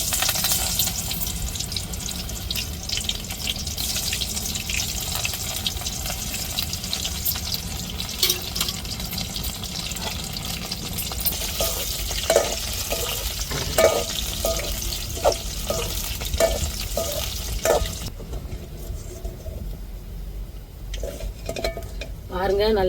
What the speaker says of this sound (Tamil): இப்போ எண்ணெய் சூடேறிட்டு நம்ம அப்படியே அள்ளி போட்டு பொரிச்சிருவோம்.